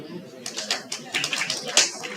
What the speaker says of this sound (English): And a round of applause.